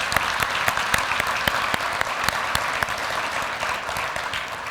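Audience applause fills the room at an awards dinner, steady dense clapping heard alone without talk.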